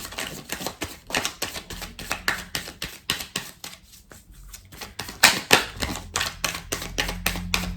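Tarot cards drawn and handled on a table, a rapid run of soft slaps and flicks of card stock, close and fairly loud, with a brief pause partway before the handling picks up again.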